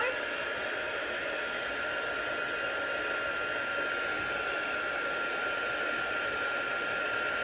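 A heat tool blows steadily for several seconds to melt embossing powder on a stamped romantic card, a constant close airy whoosh with no break.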